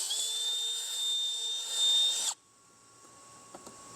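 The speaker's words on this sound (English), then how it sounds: "Take our drill, we're going to match drill the hole." A power drill match-drills a hole through the fender for a Rokblokz fender kit on a 2026 Kawasaki Teryx H2 UTV, whining loud and steady for about two seconds and then stopping abruptly, followed by faint handling clicks.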